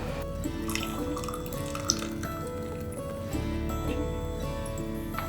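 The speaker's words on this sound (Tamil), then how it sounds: "இந்த டீ இப்போ தயாராகிடுச்சு. இதை வடிகட்டிடலாம்." Herbal tea poured through a strainer, a steady close trickle of liquid running into a vessel with faint dripping, no talk.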